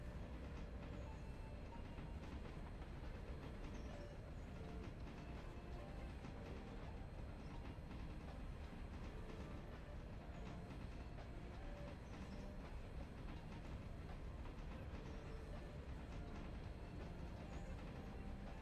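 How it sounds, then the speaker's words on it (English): Trains roll along the tracks in the railroad game Railroader, a continuous loud rumble with rhythmic clickety-clack from the wheels throughout and no voices. "There we go with the trains."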